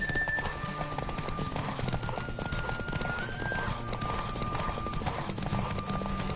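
Rapid, rhythmic hoofbeats of a galloping horse in the video game The Witcher 3: Wild Hunt pound steadily, with an occasional whinny and a steady tonal hum in the background.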